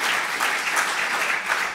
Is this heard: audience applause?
yes